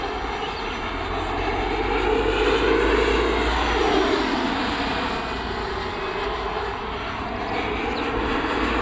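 Freewing Avanti 80mm EDF radio-control jet on a 6S battery at full throttle, a steady loud ducted-fan roar that holds constant and swells slightly mid-pass.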